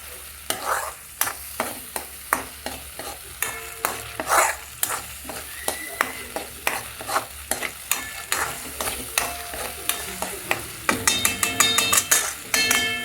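Paneer stirred through onion gravy in a pan: a spatula scrapes in a steady rhythm of loud strokes over a gentle sizzle, with the strokes quickening into rapid clatter near the end.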